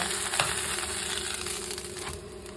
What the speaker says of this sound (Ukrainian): І ось так він у нас смажиться гарненько до золотистої скоринки.